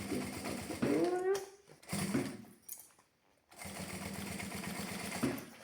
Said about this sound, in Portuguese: E vamos costurando com muita paciência, que é toda a volta, mesmo com o calcador rente ao vivo